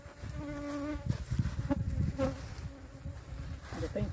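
A large bee buzzes inside a rock crevice, a loud, steady droning hum with wavering pitch and occasional rustling, close to the microphone.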